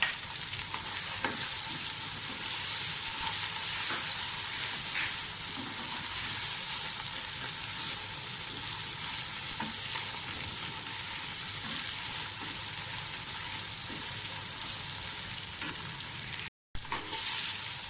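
Tomatoes and green chillies fry with yogurt in a pan for chana pulao, a steady close sizzle running throughout with occasional scraping stirs and no talk.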